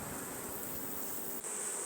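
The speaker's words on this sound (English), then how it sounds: "the bees are bringing a lot of nectar" Honey bees buzzing around an open beehive in June, a dense, steady hum of many insects at close range, continuous and fairly quiet, with no voices.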